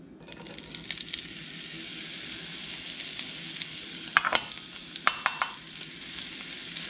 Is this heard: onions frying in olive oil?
yes